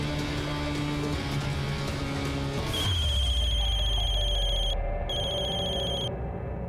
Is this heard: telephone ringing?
yes